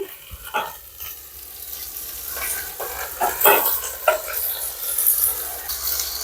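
Pallipalayam chicken stirred and fried in a pan with ginger-garlic paste. Repeated scraping stirs and clinks of the spoon sound over a constant frying sizzle, close and fairly loud.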